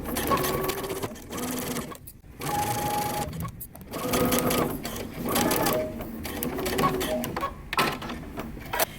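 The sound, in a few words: sewing machine stitching jacket facing, 1/4 inch seam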